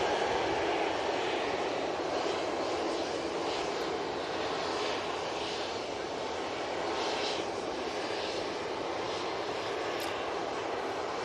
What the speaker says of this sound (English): That's TUI 737 making its way probably down to Victor Bravo.